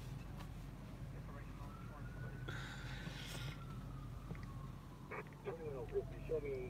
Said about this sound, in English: Ooh, I hear sirens.